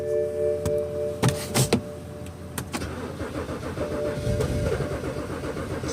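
A BMW X5 on a cold morning cranks repeatedly but fails to catch, with starter whirring, clicks and thumps heard from inside the car, no running engine following.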